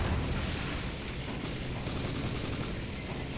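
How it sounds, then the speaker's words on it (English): RPG fire and explosions in the video game M.I.A.: Mission in Asia, a dense, continuous rumble of booms and gunfire that stays loud throughout with no clear gaps. "Okay, those are RPGs, because why wouldn't they be?"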